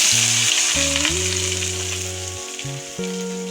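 Chopped beans, onion and green chilli sizzle steadily in a hot pan for a few seconds, a continuous frying hiss under louder background music with sustained tones.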